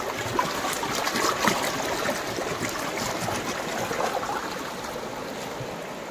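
Very cold, clear water pours from long outdoor pipes, making a steady, rushing splash that stays constant and moderately loud.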